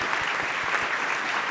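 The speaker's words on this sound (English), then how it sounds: "I think that deserves a round of applause" A brief burst of thick, continuous applause from a summit audience in a hall, steady and fairly loud, with a few low thumps beneath it and no talking.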